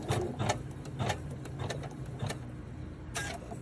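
An embroidery machine sews a placement stitch on Cuddle fabric for a small pumpkin keychain, making a soft, close whirring hum broken by sharp rhythmic needle clicks at uneven intervals.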